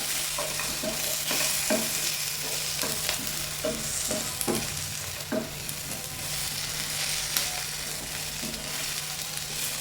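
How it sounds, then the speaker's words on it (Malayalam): Spatula stirring fried dry fish pieces into a chilli masala in a hot pan, with steady sizzling and repeated close scraping strokes over about ten seconds and no talk. "ഇനി നമുക്ക് വറുത്ത് വെച്ചിരിക്കുന്ന മീൻ ചേർത്ത് കൊടുക്കാം."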